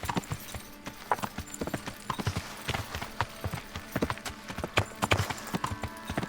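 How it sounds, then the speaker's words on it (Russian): Horse hooves clip-clop at a steady walking rhythm in Kingdom Come: Deliverance, close and distinct, with a faint neigh from the medieval game horse and no talk over it. "Лошадь подведем сюда."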